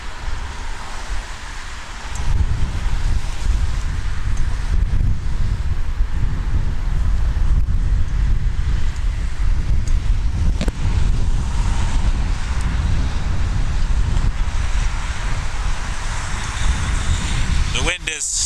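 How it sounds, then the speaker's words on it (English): Strong outdoor wind buffeting the microphone beside an airport runway at night, a loud continuous roar that swells after a quiet opening and holds steady, with a brief crackle near the end. "The wind is starting to pick up, and that makes it hurt more."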